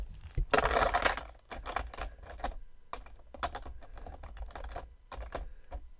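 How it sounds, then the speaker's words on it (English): Dice and small game pieces dropped and settled into the plastic insert of a board game box, a sharp rattling clatter at the start followed by scattered light clicks and taps, close and quiet. "Let's see if the dice will go there."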